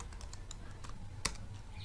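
Light tapping on a computer keyboard while a query is entered in QGIS, soft uneven keystrokes at close range with one sharper key press, fairly quiet and without speech.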